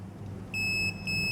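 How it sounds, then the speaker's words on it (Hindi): Continuity beep of a clip-on meter testing a float switch for a water tank connection, a high steady electronic tone sounding in three short bursts over faint background hum. "इस तरह से आपको कंटिन्यूटी मिलेगी, बीप का साउंडिंग आएगा"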